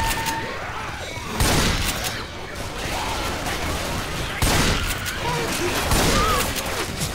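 Rapid gunfire from the Left 4 Dead 2 zombie shooter game, dense bursts of shots rattling on and off throughout with louder volleys near the start, middle and end, while players talk over the action.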